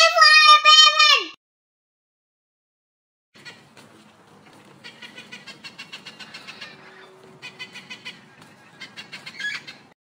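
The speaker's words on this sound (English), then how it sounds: "P for parrot." A cartoonish parrot squawks in a children's phonics alphabet song, a loud bright call heard alone at the start, then quiet music with a pulsing rhythm after a gap.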